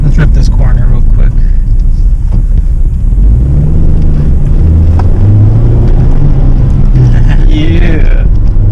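A Toyota Matrix fitted with Tein Street Basis Z adjustable coilovers is driven hard around a corner, its engine rumbling low and steady with rising drone and tire noise while people talk throughout inside the cabin.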